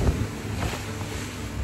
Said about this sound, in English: The ocean can be a wild beast, and I'm really, really seeing it in its full force at the moment